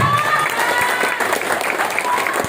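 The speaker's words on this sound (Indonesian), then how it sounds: "Tepuk tangan dari PT." Audience applause at a business seminar, a brief burst of loud, dense clapping from a crowd in a room, continuous and even throughout.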